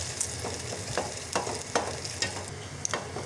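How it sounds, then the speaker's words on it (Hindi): Chopped onion fries in oil, a soft steady sizzle with a few light scraping stirs at regular intervals, fairly quiet and close. "इसके साथ ही हम अपना कटा हुआ प्याज ऐड करेंगे और इसको हम फ्राई कर लेंगे।"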